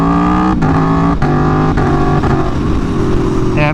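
Aprilia Tuono V4 motorcycle engine revving loud and close, with its steady tone stepping down through several sharp quick-shifter ignition cuts on upshifts from second to third gear.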